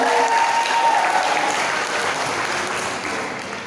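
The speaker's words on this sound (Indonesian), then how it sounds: "tepuk tangan sekali lagi sama" Full audience applause at a university seminar at Unimal in Aceh, a thick wash of many hands clapping at once, loud at first and easing slightly toward the end.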